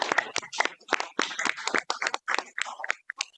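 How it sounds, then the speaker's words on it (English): A handful of people at a city council meeting clap in sparse, irregular bursts that taper off within a few seconds, close and fairly quiet. "So let's join them in giving a hand of applause."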